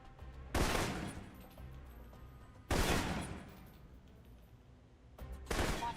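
Assault rifle fire in Alpha Protocol: three loud, sharp bursts spaced a few seconds apart, each cracking out then trailing into reverberant decay, with quiet ambience between volleys.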